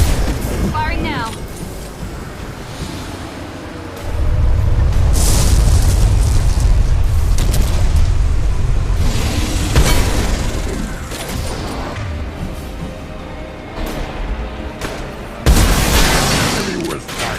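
Weapon fire and explosions in the video game Mass Effect, heavy booming blasts with deep rumbling tails and crackling bursts rising and fading in waves, loud and close, with voices talking in between.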